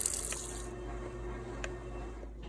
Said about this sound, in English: if I just pour a little bit out and add some cold water in, that should bring it down to 105